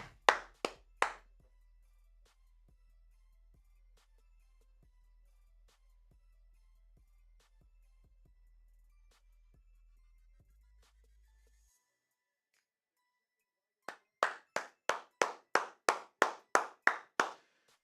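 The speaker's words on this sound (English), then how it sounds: "Everybody give the claps" Hand claps at an NBA watch party after a Heat vs. 76ers game: three sharp, close claps at the start, a long near-silent stretch, then a steady run of about nine evenly spaced claps at the end.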